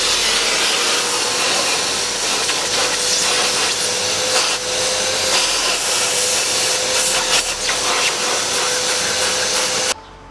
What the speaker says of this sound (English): I'm going to test out the vacuuming power with just cleaning out this passenger seat right here